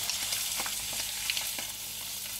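Chicken livers fry in a hot pan for a terrine, a steady close sizzle and crackle running throughout with no one speaking.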